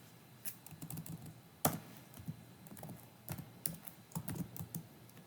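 Fingers type C code on a computer keyboard nearby, a quiet, uneven patter of key taps with a few sharper strikes and brief gaps, with no voice.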